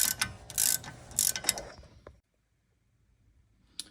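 Ratcheting wrench with a 13 mm socket loosening a rear bolt during a DIY brake job on a Volkswagen Atlas: close, rapid metallic clicks in bursts for two seconds, then near silence and one last faint click.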